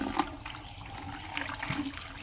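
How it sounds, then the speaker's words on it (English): A water hose gushes into a bucket while it is rinsed out in a small garden, a close, continuous churning splash with no talk. "We'll snag out the water hose and rinse this out really quick."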